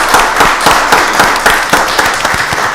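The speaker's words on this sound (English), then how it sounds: "Let's just give those folks a round of applause." A round of applause fills a county commissioners meeting, with steady, dense clapping from the gathered audience that holds at a consistent, fairly loud level throughout.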